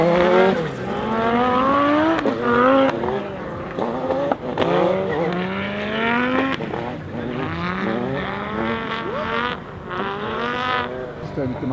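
An Audi Sport Quattro S1 E2 Group B car with a five-cylinder turbo engine drives at racing speed, its loud engine note rising and falling through repeated gear changes, with people talking faintly underneath.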